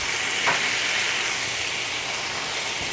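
Maple mustard chicken skewers frying in a hot pan, a dense, steady sizzle close by with light crackle and the occasional stir, no voices.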